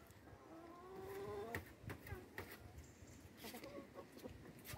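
Chickens cluck softly in a farmyard on a rainy day while being fed a mix of raw corn, several short calls scattered over a steady rain-like background hiss.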